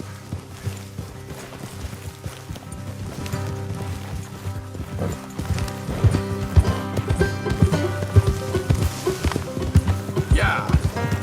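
A spotted Appaloosa horse in Red Dead gallops with rhythmic hoof clip-clops that grow louder and quicker, set against a game music bed and voices talking.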